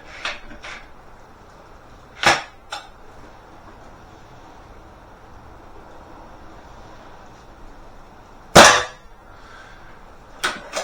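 A Webley air rifle, British or Turkish made, fires a few sharp, close cracks spread over several seconds, with small clicks between shots and quiet room tone otherwise.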